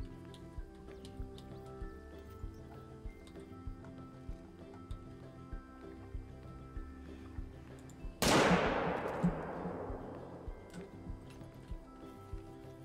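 A single loud rifle shot at a coyote in a hunting game set in Layton Lake District, sharp crack with a long fading echo after steady soft clip-clop footsteps.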